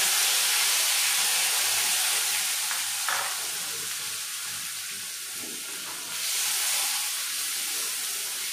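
Ground onion paste meets hot oil with fresh green chillies in a pan for jackfruit seed sabzi, giving a loud, dense sizzle and bubbling that eases slightly midway, then swells again, close and steady.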